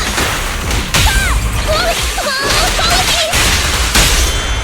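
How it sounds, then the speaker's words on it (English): Zenless Zone Zero combat plays out with a steady wash of loud impacts, whooshes and crashes, while chirpy electronic tones and warbling effects flutter over the action. "Actually, all the combat sound effects are awesome"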